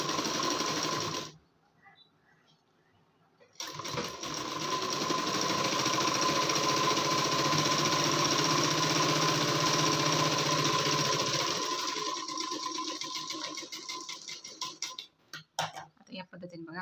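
A sewing machine stitches a blouse seam, running a double line of stitching for strength. The steady, close mechanical whir starts after a short pause, runs unbroken for several seconds, then slows into a few uneven bursts before stopping.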